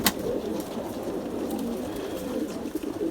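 Pigeons in a coop on a rainy evening in Izmir give off low, continuous cooing and rustling, with a sharp flap of wings at the start and light scattered movement throughout.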